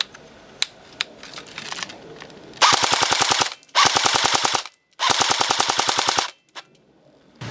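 DBoys AK74 RK03 airsoft rifle fires full auto outdoors in three loud, close bursts of rapid rattling shots, each about a second long with short gaps, preceded by a few scattered single clicks.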